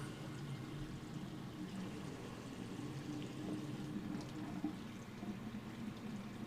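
Room-temperature tap water runs slowly from a low-pressure faucet to wash dye off a pysanky egg, making a steady faint trickling pour that holds even throughout.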